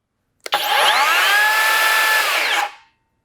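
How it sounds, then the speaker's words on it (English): A Skilsaw cordless worm drive circular saw spins up sharply, whines loud and steady for about two seconds with a high-pitched motor tone, then brakes and stops quickly, heard up close and alone. "I feel like the saw is a little higher pitched than the brushed version"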